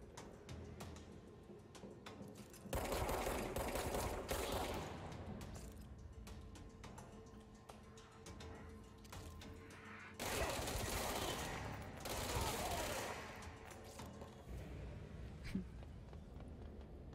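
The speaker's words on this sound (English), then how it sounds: "Man, this gun just like" Sustained bursts of rapid gunfire from a weapon in the game Control, two long dense volleys a few seconds each separated by quieter stretches of clicking and mechanical ticks, loud and close.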